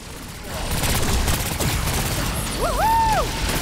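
Rapid gunfire in the video game Agents of Mayhem as unstable power conduits are shot, a dense sustained barrage with crashing impacts and a warbling electronic tone near the end.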